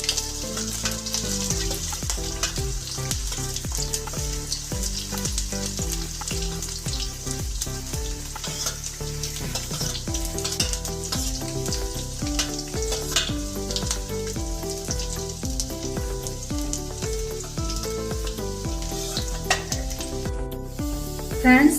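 Garlic cloves fry in oil with cumin and crushed ginger, a steady loud sizzle running throughout with no break, over a busy background of music.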